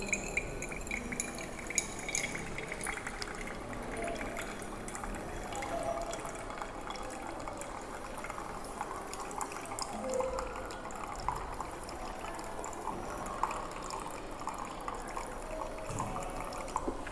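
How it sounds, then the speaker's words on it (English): Water trickles and drips steadily through a homemade filter of layered white stone, coal, gravel and sand, a faint, continuous patter with no talking. "Impure water passes through the different layers and"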